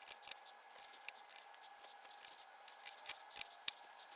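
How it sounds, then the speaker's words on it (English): Wide chisel paring the flat faces of a wooden joint by hand, giving a run of faint, scattered short scraping ticks and shaving crackles at irregular intervals in a quiet room. "I'll start with a wider chisel and work on the flat parts over here."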